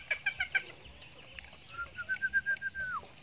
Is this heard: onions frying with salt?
no